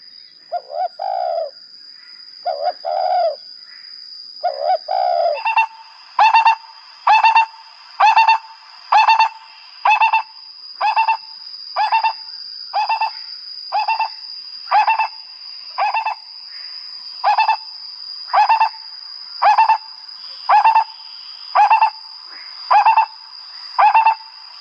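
A bird calls in a long steady run of about twenty evenly spaced hooting or cooing notes, loud and close, over a constant high whine in an outdoor setting; a few softer calls come before the series.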